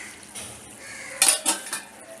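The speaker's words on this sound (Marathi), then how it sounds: "आपण आता झाकण काढून बघू." A lid comes off a pan of Malvani stuffed eggs with a sharp metallic clatter, then a couple of lighter clinks over a faint background sizzle.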